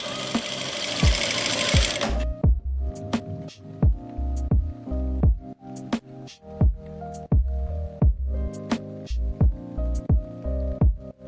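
A sewing machine runs on a circular palazzo, first a dense continuous whir for two seconds, then a slow series of separate loud stitch thumps, each needle stroke distinct and regular.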